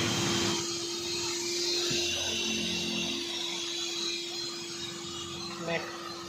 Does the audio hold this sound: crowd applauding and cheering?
no